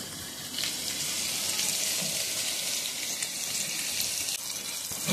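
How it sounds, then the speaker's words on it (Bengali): Paneer pieces frying in oil in a pan over a low flame, giving a steady, close hiss and sizzle that holds evenly throughout with no voices. "পনিরটা কিন্তু ভাজা বসিয়ে দিয়েছি"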